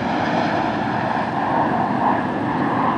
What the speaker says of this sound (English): I'll just wait till the jet goes away